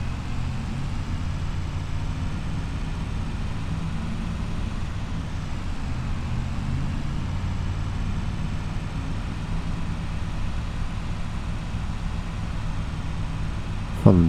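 Farm vehicle in the Farming Simulator video game, heading out with fertilizer: a continuous, even engine drone and whir holds steady throughout without pauses, with no talking.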